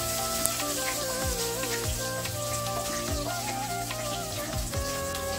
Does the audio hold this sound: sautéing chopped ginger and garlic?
yes